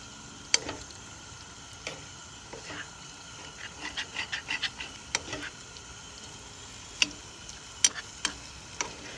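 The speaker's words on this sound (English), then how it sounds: "I flipped these burgers prematurely." Burgers frying on a Primus Sportsman camp stove, a soft background sizzle broken by scattered clicks and scraping taps from a spatula, moderately faint and without talk.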